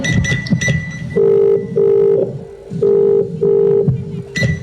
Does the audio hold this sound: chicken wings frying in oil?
no